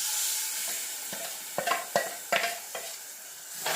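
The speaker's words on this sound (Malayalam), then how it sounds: "ഇതൊഴിച്ചിട്ട് നന്നായിട്ട് ഈ തേങ്ങയിലെ ജലാംശം വറ്റുന്നവരെ നമ്മളൊന്ന് ഇളക്കി കൊടുക്കണം" Coconut paste ground with fennel and black pepper is poured into spices frying in a pan for a sardine curry, giving a steady close sizzle broken by several scraping stir strokes, with no talk.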